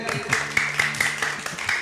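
Children clap their hands along to a Christmas Jesus song, a quick, steady run of sharp claps close by, mixed with voices.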